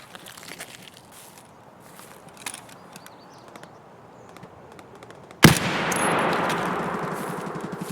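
Video game gunfire while shooting scabs: scattered faint clicks and small shots, then a sudden loud blast followed by a sustained roaring burst of fire.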